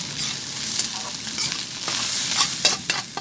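Chinese sausage, fried beforehand, tossed with rice in a hot pan for Thai-style fried rice, giving a steady close frying sizzle with scraping stir strokes and a few sharp clinks of the utensil.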